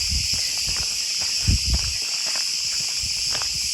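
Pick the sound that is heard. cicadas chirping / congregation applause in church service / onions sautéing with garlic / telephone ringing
cicadas chirping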